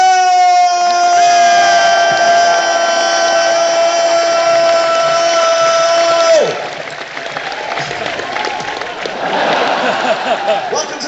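A long sustained horn-like tone gives way to a burst of loud applause and cheering from a large crowd that continues to the end.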